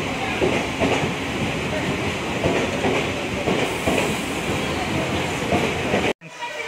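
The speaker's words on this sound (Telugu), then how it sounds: "మన ట్రైన్ వచ్చేసింది ఫైనలీ" Nagavali Express train pulling into Basar station platform, a steady loud rumble and rattle of rail cars with clattering wheels running throughout, cut off abruptly near the end.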